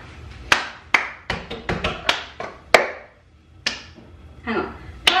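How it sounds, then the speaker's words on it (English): Sharp hand claps alternate with thuds of palms slapping a table at home in a clapping rhythm game, a dozen or so crisp, close hits in a loose, uneven pattern with brief pauses and no talk. "Clap, clap, table, table, clap, clap."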